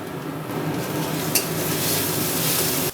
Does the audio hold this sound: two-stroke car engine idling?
no